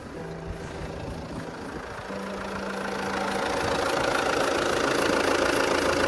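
An Alfa Romeo Giulietta engine idles in neutral with a steady, close mechanical hum that grows gradually louder over a few seconds, with no one talking.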